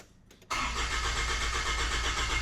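A car with a new rear exhaust setup starts up and gives one quick rev, a loud, steady engine roar rising sharply after a half-second of quiet and holding close and strong.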